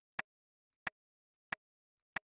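Four short, crisp layered hand-clap hits used as a snare, evenly spaced in a steady rhythm, dry and isolated with silence between each.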